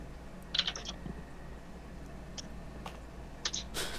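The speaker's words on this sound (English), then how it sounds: "Several people are typing." Keyboards clatter in scattered bursts as several people type at once, faint and somewhat distant, with short clusters of keystrokes separated by pauses over a low steady background hum.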